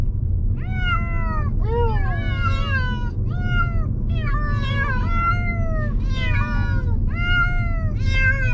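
Several cats shut in carriers during a car trip to the vet meow loudly and repeatedly in a near-continuous, rhythmic chorus, close by over a constant low road rumble.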